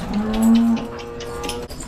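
A single loud, close cow moo from a dairy cow on a farm, a sustained low bellow lasting under a second, followed by quieter barn background noise.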